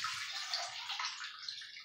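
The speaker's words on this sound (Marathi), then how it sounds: "तिच्यातलं पाणी पूर्ण काढून घ्यायचं" Water drains off freshly washed onion greens, giving a soft, steady trickle and hiss close by. The flow stays even and quiet for the whole moment, with no voices.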